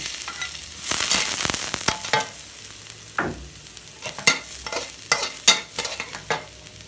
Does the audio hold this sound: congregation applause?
no